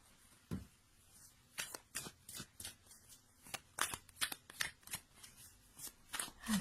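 Oracle cards are handled and shuffled close by, with a run of crisp riffling and flicking bursts in an uneven rhythm and no voice over them.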